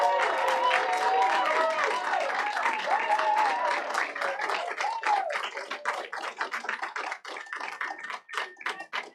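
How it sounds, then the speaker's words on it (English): Applause and clapping from a large audience at a council meeting, loud and dense at first, then thinning into scattered individual claps. No one speaks. "There really are a lot of people clapping both for and against all-weather surfaces in Callan Park."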